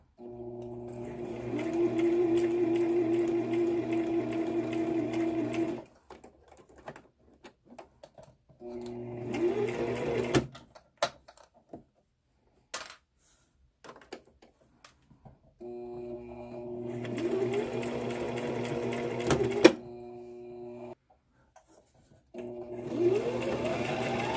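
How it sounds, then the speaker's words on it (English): Sewing machine stitching an adult-sized fabric face mask, running in steady whirring bursts of several seconds separated by short pauses and quiet gaps, close and clear. "making sure that this doesn't get caught while I sew"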